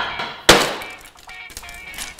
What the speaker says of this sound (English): So you can see it's that easy to shatter the glass